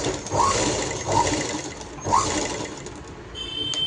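Sewing machine running in steady bursts while stitching the neckline of a plain unlined blouse, a close continuous whir with brief louder swells as the fabric is fed, no talking.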